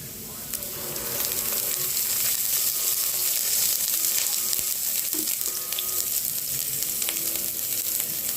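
Cooking oil sizzles loudly in a pan before pork ribs go in, a dense, steady crackle that swells after the first second and holds with occasional scraping taps.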